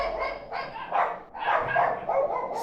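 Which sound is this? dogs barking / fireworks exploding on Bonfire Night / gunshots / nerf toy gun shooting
dogs barking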